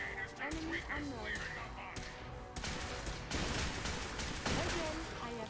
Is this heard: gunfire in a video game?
yes